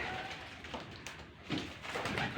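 A few soft, low pigeon coos come from nearby at a nest on a ledge in a small pet farm, faint and spaced apart over quiet background hiss.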